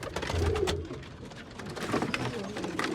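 Kept pigeons give low, rumbling coos nearby, several bubbling calls overlapping across three seconds against a light background hiss.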